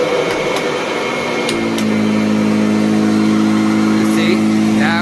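A Kirby Avalir 2 vacuum cleaner hums steadily, then its motor climbs to a louder, higher full-power whine that holds. A person talks over the noise.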